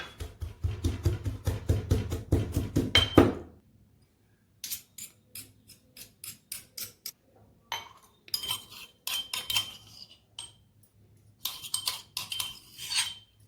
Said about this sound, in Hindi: बैंगन के चोखे में डालने के लिए मैं लहसुन को कुचल लूंगी